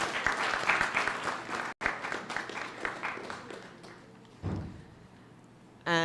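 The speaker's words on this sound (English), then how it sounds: "give them a round of applause" Audience at a public speaking competition awards evening breaks into loud, dense applause that fades over several seconds, with a brief cut in the middle and a short burst of clapping at the end.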